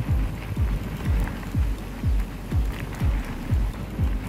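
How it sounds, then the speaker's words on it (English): Hail falls during a mountain thunderstorm on a bikepacking trip, a steady broadband patter with regular low thumps repeating about twice a second throughout. "and it's hailing"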